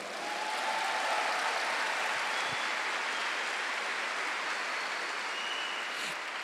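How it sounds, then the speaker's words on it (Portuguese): A church congregation applauds during a Holy Week sermon, a dense, continuous wash of clapping held at steady volume throughout, with no speech over it. "Pode aplaudir essa palavra."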